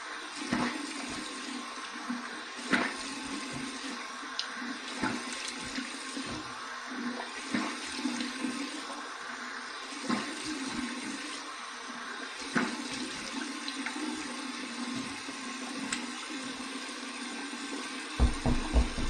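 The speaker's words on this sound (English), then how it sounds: "Here is my cold water rinse, just waiting for it to cool down a little more." Tap water runs steadily into a bathroom sink for a cold rinse after a wet shave, a continuous close splashing rush that holds throughout with small fluctuations and a few louder spatters near the end.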